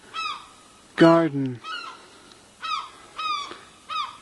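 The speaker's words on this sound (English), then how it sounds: "You can hear the birds calling out." Several birds call in repeated bursts across an early-morning garden on a windy day, loud and close, with a harsher, lower cry near the middle and a brief spoken word.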